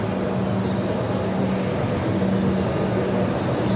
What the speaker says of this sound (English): You constantly see a moving train if you're here in peak hour.